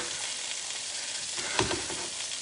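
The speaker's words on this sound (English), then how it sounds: "So that pork is cooking away." Pork loin sizzles steadily in a frying pan with courgette and mushrooms, a close, even crackle and hiss with a brief stir near the end.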